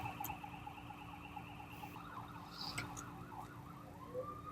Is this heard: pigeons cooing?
no